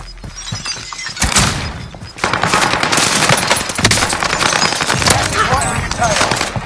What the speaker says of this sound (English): I think somebody else shooting.